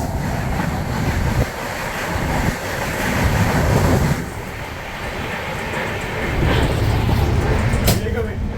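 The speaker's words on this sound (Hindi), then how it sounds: "ये गई भाई फास्टेस्ट ट्रेन ऑफ इंडिया गतिमान एक्सप्रेस" Gatimaan Express, India's fastest train, rushes past at speed near Palwal, heard from aboard a Mahakaushal Express train as a loud, continuous roar with wind buffeting. A voice talks over it.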